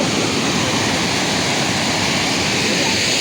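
A large waterfall roars continuously, a dense, loud broadband rush of falling water filling the whole scene without a break, heard close with no voices on top.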